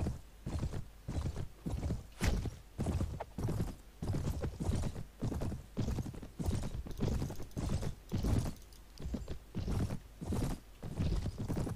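Horse hooves clip-clop in Mount and Blade (Prophesy of Pendor mod), a steady rapid galloping rhythm of thuds running the whole time, fairly loud and close with no talk over it.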